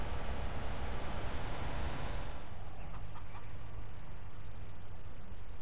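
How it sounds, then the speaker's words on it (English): Chickens in a chicken stable in the Farming Simulator 19 video game, heard as a steady broadband noisy bed with faint clucking, a denser burst of sound for the first couple of seconds before it thins out. "So here we have a chicken stable"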